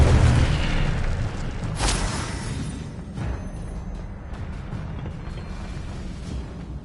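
Incendio fire spell in Hogwarts Legacy, a deep booming burst of flame that bursts loudly at first and then fades into a lingering low rumble with a few softer crackles.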